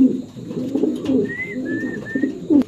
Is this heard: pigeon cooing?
yes